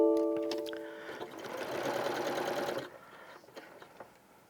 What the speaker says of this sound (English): now we're going to sew these two together